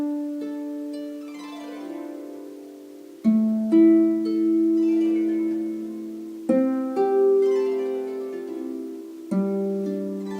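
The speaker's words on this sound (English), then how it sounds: "you're going to take your thumb and just do downward, sort of a gliss stroke on your harp" Notes ring out on a double strung harp: a downward thumb glissando sweeps into sustained chords, with several plucked strikes and long ringing decays in a quiet room.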